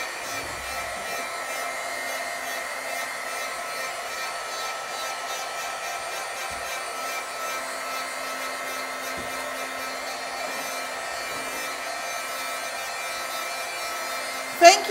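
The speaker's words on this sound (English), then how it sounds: "I have a hairdryer somewhere over here" A steady, airy hair dryer whir runs continuously at moderate volume, with a brief louder bump at the very end.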